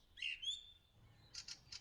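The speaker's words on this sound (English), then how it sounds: "Even before dawn, we begin to hear the songs of the first early birds." Early birds singing before dawn: a faint, thin whistled call with a rising glide, followed by a few quick chirps, distant and quiet over soft background hush.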